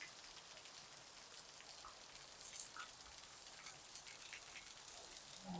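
Heavy rain pours steadily and evenly over an outdoor swimming pool area in Goa, a dense continuous hiss with no talking.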